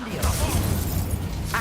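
A fire spell cast in Hogwarts Legacy gives a steady, roaring burst of flame with a deep rumble for under two seconds. It stays fairly loud throughout and ends with a brighter flare.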